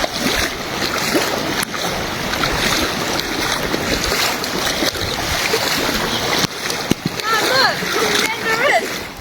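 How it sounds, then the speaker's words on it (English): Floodwater surges through a house in New Zealand's Nelson–Tasman region, a loud, continuous rushing and splashing roar with brief knocks and sharper splashes near the end. "The river's right through the house."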